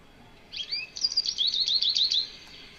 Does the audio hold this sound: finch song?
yes